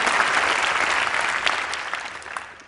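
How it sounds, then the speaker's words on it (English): Steady audience applause after a public health talk, a dense even wash of many hands clapping at close range for nearly three seconds with no voices over it. "Yes, clap for that."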